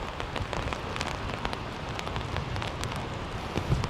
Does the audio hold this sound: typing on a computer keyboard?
no